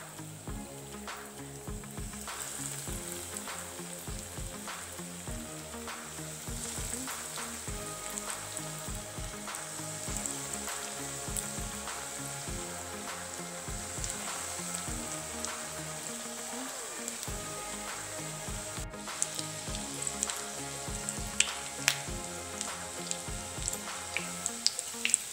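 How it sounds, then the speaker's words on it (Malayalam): Beef cutlets frying in hot oil, a steady, dense sizzle and crackle running close and fairly loud throughout with no talk over it. "അപ്പോൾ ഓയിൽ ചൂടായിട്ടുണ്ട്. ഇനി നമുക്കിതിലേക്ക് ഇട്ടിട്ട് ഫ്രൈ ചെയ്തെടുക്കാം."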